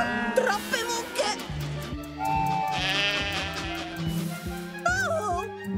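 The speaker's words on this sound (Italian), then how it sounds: "Oh, troppe pecore!" Cartoon sheep bleat in a children's animated show, several wavering bleats overlapping with voices and music, moderately loud and close.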